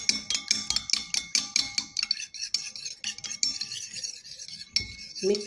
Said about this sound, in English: So I'm going to put it in the egg white. And mix it.